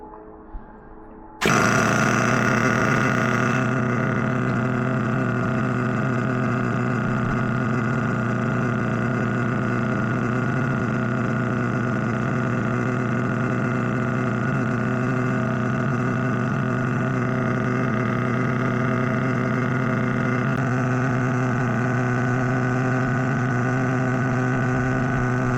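A 2004 Savage 25 nitro engine runs under a little throttle. It starts abruptly and holds a loud, steady, close-up buzzing drone that barely changes for over twenty seconds.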